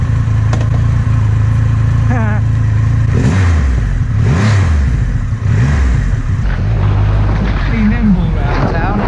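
A Triumph Rocket 3R motorcycle engine rumbles loudly and steadily while riding through town, with throttle surges and revs rising and falling in repeated sweeps, close up and continuous for the whole stretch.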